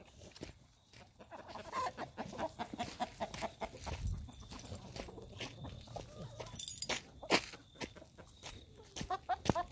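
A chicken clucks in scattered, fairly quiet bursts on a farm, mixed with shuffling footsteps and light movement nearby.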